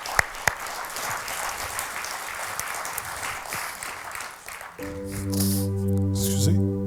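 Crowd applause from a church congregation fills the first five seconds with dense clapping, then gives way to sustained musical tones as the clapping fades.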